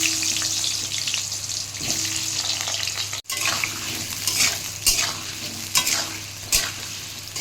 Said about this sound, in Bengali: আলুও ভেজে নিচ্ছি।